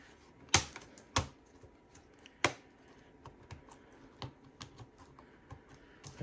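An HP EliteBook 6930P laptop keyboard being clipped back into place: a few sharp plastic snaps followed by lighter clicks and taps, close and fairly quiet.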